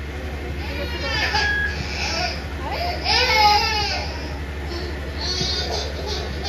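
Newborn baby crying in a Hindi drama scene, wavering high wails rising and falling over a steady low hum, with a louder crying burst in the middle and a voice speaking over it.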